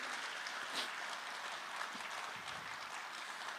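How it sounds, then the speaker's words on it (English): An audience at a talk applauds in a dense, even wash of clapping that holds steady throughout, heard from somewhat far off. "Please give a round of applause to that most powerful lady one can imagine."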